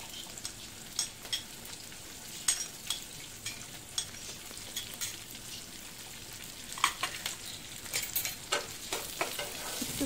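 Diced onion fries in a little oil for chilli chicken kofta, a soft continuous sizzle punctuated by repeated scrapes and stirs of a spatula.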